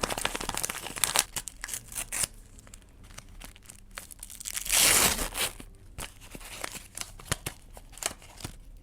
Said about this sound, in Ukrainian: А зараз ми з вами відкриваємо пакетик з аутфітами з пушеним і тока боки.